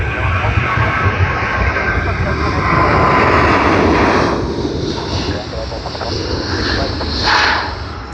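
Etihad Airbus A350-1000 jet departing Sydney Airport for Abu Dhabi, a steady, fairly loud broadband engine roar that swells in the middle and holds throughout, with people talking over it.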